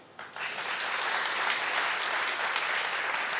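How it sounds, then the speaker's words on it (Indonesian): A church congregation bursts into applause during a sermon, dense clapping that rises quickly and holds steady and fairly loud throughout, filling the room. "Tepuk tangan."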